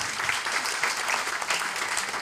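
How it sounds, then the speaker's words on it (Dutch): Audience applause for Joan, a candidate at a 2014 municipal election debate of party leaders in Bladel, a steady dense clapping that holds at an even level throughout without talk. "Applaus voor Joan."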